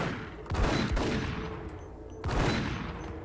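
Gunshots from the Max Payne video game ring out as two sharp, loud reports about two seconds apart, each followed by a fading echo, with no talk over them.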